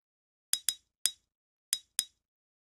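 Ice crack sample in FL Studio, five sharp, crisp cracking clinks in an uneven rhythm, each snapping in brightly and fading fast, with silence between hits.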